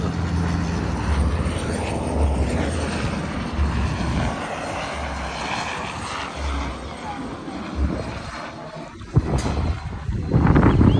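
A helicopter passes overhead outdoors, a loud continuous rotor and engine roar with a shifting whine that swells toward the end.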